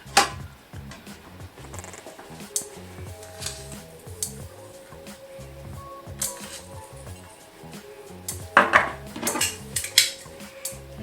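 A pan is tilted and shifted to spread oil before braising pork shoulder, heard as irregular metallic clanks, knocks and scrapes of cookware, close and uneven, louder toward the end, with no speech.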